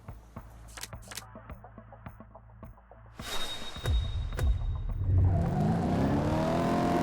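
A Resvani sports car in the Top Drives racing game launches and accelerates, its engine note swelling from faint clicks into a loud, sustained rising whir and roar that holds to the end.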